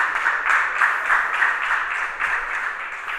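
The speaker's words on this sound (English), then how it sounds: "Warm round of applause, by the way," Audience at a tech conference on digital future and Web3 applauds to welcome speakers to the stage: clapping swells in a pulsing, slightly rhythmic pattern, moderately loud and continuous, with no voices.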